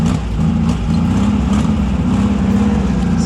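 A VW engine in a sand rail runs in a steady, loud, low throbbing rumble with a continuous mechanical drone and no clear revs or pauses.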